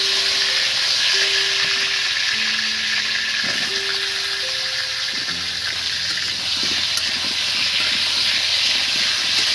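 Chandramukhi potatoes go into hot oil in a kadai wok for aloo dum, setting off a loud, continuous sizzling hiss close by, with a few brief whistling tones over it.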